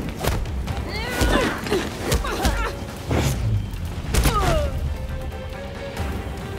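Fireworks burst in the Gotham Knights video game: a steady run of deep booms and sharp thuds, with whistling streaks rising and falling between the blasts over a constant rumbling background.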